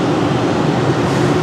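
The Atlanta Airport Plane Train, an automated underground people mover, pulls away from its platform with a steady, loud rumble and whine of the railcar, continuous and without talk.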